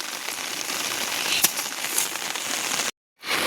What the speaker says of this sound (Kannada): ನೋಡಿ ಗೈಸ್, ಮಳೆ ಬರ್ತಾ ಇದೆ